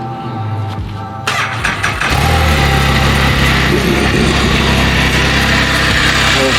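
A vehicle engine, a Metallica-themed build with added mods, cranks briefly and then catches, settling into a loud, steady running roar that continues to the end with no talk over it.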